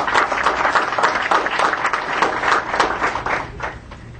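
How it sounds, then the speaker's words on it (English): Applause fills a governing board meeting room, with many hands clapping in a dense, loud, continuous patter that keeps a steady level before easing slightly at the end. "So I'd like to give them all a great round of applause for all of their work."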